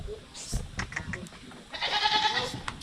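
Goats on a farm bleat in short calls, a brighter cluster rising in the second half, with people talking nearby and scattered background noise.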